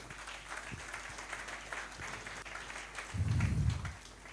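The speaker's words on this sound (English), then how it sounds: "can we have a big round of applause for them?" Applause from an audience at a tech day gathering in a Mumbai banquet hall, honouring team sponsors; a light patter of claps builds into a louder, denser burst near the end before tapering.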